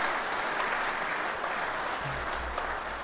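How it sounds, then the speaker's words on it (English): A steady round of applause from a crowd, continuous clapping at moderate volume throughout. "Let's give him a round of applause."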